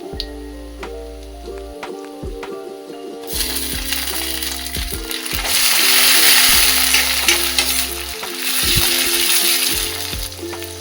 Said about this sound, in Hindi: वैसे कढ़ी में टमाटर नहीं पड़ता बट मैं फिर भी टमाटर डाल रही हूँ टेस्ट के लिए